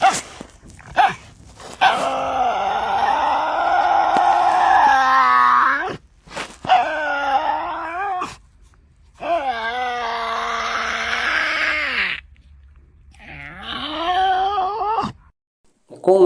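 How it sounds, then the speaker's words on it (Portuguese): A Tasmanian devil growls and screams in harsh, wavering bursts, loud and close, several long rasping cries broken by brief silences, as when it bares its teeth over food. "especialmente durante a alimentação, quando rosna, ruiva e mostra os dentes para devorar a presa"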